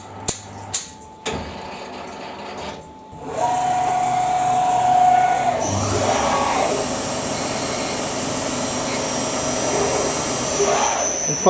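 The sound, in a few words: CNC lathe facing internal bore with internal facing tool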